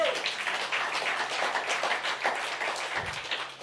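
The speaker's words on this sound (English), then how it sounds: "Clap your hands for the man of God." A church congregation claps hands together in steady, dense applause that carries on through the moment and trails off slightly at the end.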